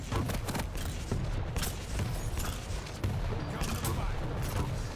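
Rapid bursts of gunfire crackle through a Quake Champions match, shotgun blasts stacking up amid constant combat noise at a moderate, busy level.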